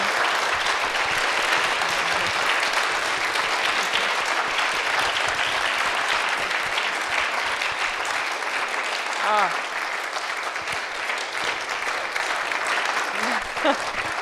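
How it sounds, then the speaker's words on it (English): Sustained applause from a live audience at a talk show on funeral services, steady dense clapping throughout with a few brief voices rising over it near the end. "Give them a huge round of applause"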